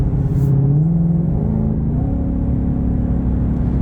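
Ford GT500 engine droning in fourth gear, a loud steady low rumble heard from inside the car, its pitch rising slightly then settling, with no talk.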